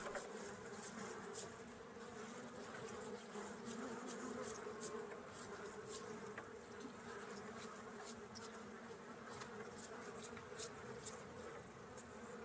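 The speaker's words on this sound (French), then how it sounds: "Si vous voyez plein d'abeilles dessus, qui ont la tête dans la cellule, c'est parce qu'elles sont en train de les nourrir." Honeybees crowd over a brood frame from a wild swarm in an apiary, giving a steady, dense, close buzzing drone that holds evenly throughout with no talking.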